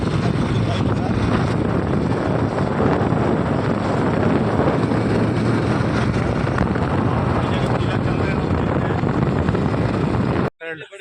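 Motorcycle ride carrying three people toward Vijaygarh fort, a steady loud engine roar blended with heavy wind buffeting across the whole stretch, cutting off abruptly at the very end.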